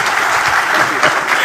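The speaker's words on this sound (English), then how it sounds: "Let's give them one more round of applause" Audience applause after a presidential event in Korogosho, dense steady clapping that fills the whole moment at close range with no break.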